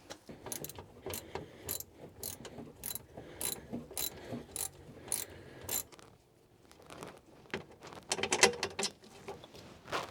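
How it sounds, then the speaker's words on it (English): Metal clicks and ratcheting of a wrench loosening a nut on a Dodge Viper's battery holder, a brisk series of close, sharp ticks in bursts with short pauses. "we got to take off this nut right here to release the battery holder"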